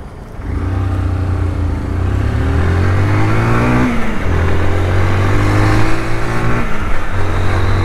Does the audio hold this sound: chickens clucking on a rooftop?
no